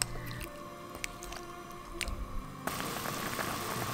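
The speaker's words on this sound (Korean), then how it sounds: "보글보글 소리 참 좋지요?" Potato stew simmers in a small earthenware pot, giving close, soft bubbling with wet pops and drips that grow into a denser, steadier boil.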